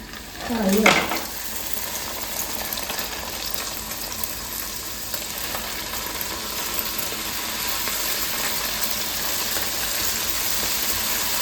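Food hits hot oil with a brief loud splash, then a steady sizzle and crackle continues evenly throughout.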